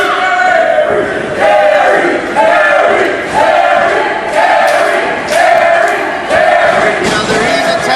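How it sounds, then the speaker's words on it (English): A wrestling crowd at a BPW title match roars steadily for the challenger, with swelling waves of cheering and shouts, loud and continuous throughout. "this crowd solidly behind Terry Adonis"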